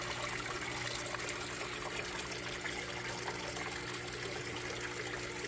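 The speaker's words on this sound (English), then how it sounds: "As this bell siphon gets down to the bottom and it shuts itself off." Water from an aquaponics bell siphon in a raised tomato-growing container drains in a steady, continuous trickle and gush, close and fairly loud throughout with no talking.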